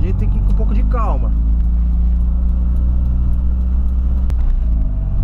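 A Volkswagen Voyage driving slowly through rainy-day city traffic, heard from inside as a loud, steady low engine and road drone, with a brief voice near the start.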